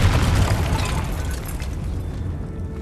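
Confringo blasting spell in Hogwarts Legacy, a loud booming burst with a crackling, rumbling tail that slowly fades, no speech.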